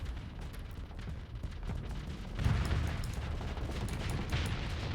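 Spaceship weapons trading fire in the game Starsector, a steady rumbling barrage of overlapping blasts and impacts that swells louder midway and keeps going without pause.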